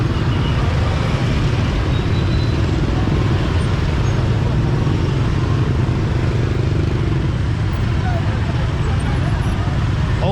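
Busy Hanoi street traffic of motorbikes, cars and buses flows past in a constant loud roar of engines and road noise, with a dense low rumble that never lets up, close and surrounding.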